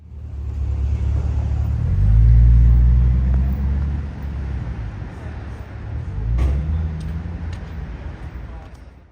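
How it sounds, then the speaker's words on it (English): A Vauxhall VXR8 passes on a street in Marylebone, a deep engine rumble swelling as it approaches, then fading, with a second smaller swell near the end. "This next car is a total surprise, a Vauxhall VXR 8."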